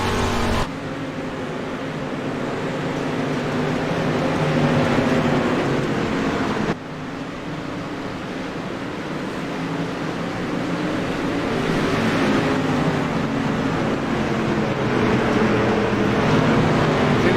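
Onboard dirt track race car at Knoxville, its engine roaring loud and close for the whole stretch, revving near 6,400 RPM down the straightaway and dropping back as it enters the turn, with a brief lift around midway.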